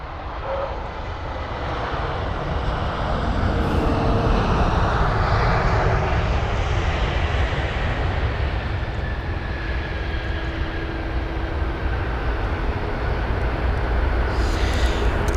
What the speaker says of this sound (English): A320 Neo with a Reg Echo India Sierra India Zulu, or EISIZ, coming from Oslo.